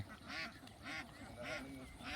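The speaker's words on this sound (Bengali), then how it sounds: "হাঁসগুলা এরা এই যে খালের মধ্যে নামছে" A flock of ducks quacks as it wades down into a canal in a village near Chandina, with loud, close calls arriving in four regular bursts about half a second apart.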